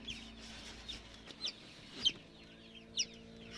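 Quails among poultry at a home farmyard give scattered soft chirps and clucks, a few brief calls spread over a few seconds against a low steady background hum.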